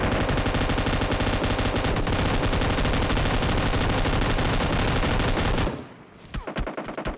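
M249 light machine gun firing in the mobile game PUBG Mobile Lite, a loud unbroken automatic stream for about six seconds, then stopping, followed by a few scattered distant shots, with no talk over it.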